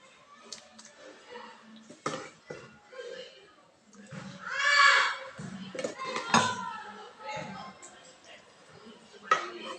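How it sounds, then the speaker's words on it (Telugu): Metal pots and utensils clatter and scrape as bottle gourd and peanut curry is scooped from one pot to another, with a person talking throughout. "అయిపోయింది ఇప్పుడు దీన్ని ఇంకో గిన్నెలకి ట్రాన్స్ఫర్ చేసుకుందాం"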